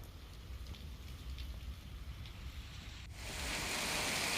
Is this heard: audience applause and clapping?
no